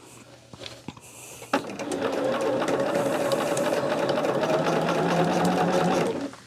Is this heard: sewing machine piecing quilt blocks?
yes